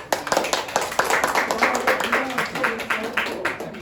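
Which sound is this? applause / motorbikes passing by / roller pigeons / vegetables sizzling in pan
applause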